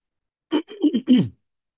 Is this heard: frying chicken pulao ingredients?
no